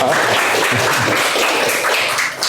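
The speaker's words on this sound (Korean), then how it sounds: "박수 한번 쳐주시면" Brief burst of audience applause at the opening of an environmental forum in a hall, a dense, even patter of many hands clapping at once that tapers slightly at the end.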